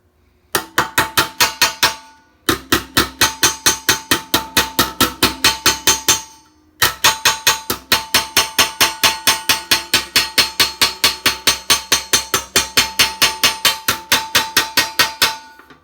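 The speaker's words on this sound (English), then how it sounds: "Then we'll dolly it up real clean." Hammer and dolly straightening the quarter panel of a 1965 Comet, a rapid run of sharp ringing metallic blows in steady rhythm, broken by two short pauses, close and loud with no talking.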